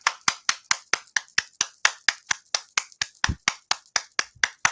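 Steady, evenly spaced hand claps, about four per second, sharp and close, with no talking.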